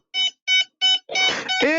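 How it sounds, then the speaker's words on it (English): The electronics of a Dynam 1500mm C-47 Skytrain RC model plane give three short, evenly spaced beeps, then a longer, harsher warbling tone follows. "It's just beeping."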